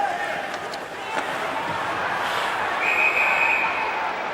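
At an ECHL ice hockey game in an arena, a referee's whistle sounds with a sustained shrill blast under crowd noise and a commentator talking.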